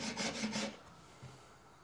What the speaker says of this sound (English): We're not trying to file a ton of material off.